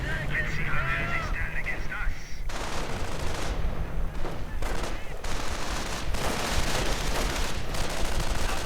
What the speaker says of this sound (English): Oh, artillery fire.